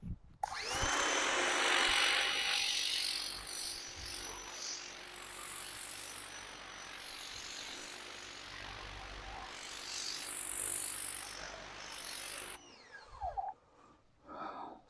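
Ryobi 2000 PSI electric pressure washer with an oscillating nozzle spraying, a loud continuous hissing rush that starts abruptly, swells and dips for about twelve seconds, then cuts off, followed by quieter handling noises.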